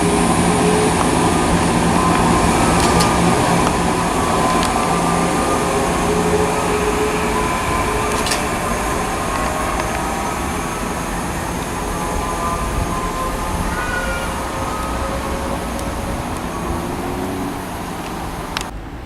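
A class 170 passenger train departs close by, a broad continuous roar with faint squeals and clanks, slowly easing in loudness as it pulls away.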